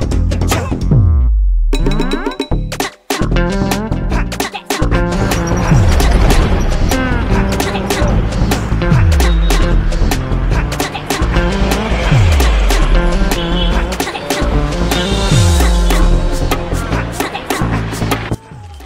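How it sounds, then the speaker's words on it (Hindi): Loud interior rumble of a moving bus, with steady engine drone, repeated gear-shift swells and road noise filling the cabin, and a brief quiet break early on. "हम लोग बस में बैठ गए हैं और चल रहे हैं"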